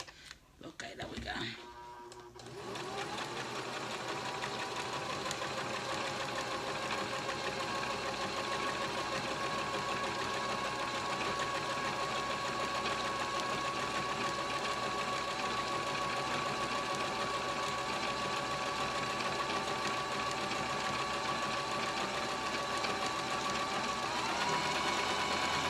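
A vintage Janome New Home DX 2015 sewing machine starts after a brief fumble, then runs steadily with a fast, even mechanical whir and hum that holds close and constant.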